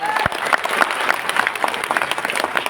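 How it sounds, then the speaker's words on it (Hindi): Audience clapping at a motivational business meeting in Guwahati, a brisk crowd applause with sharp individual claps and cheers, loud and close, with a voice briefly over it. "जोरदार तालियां।"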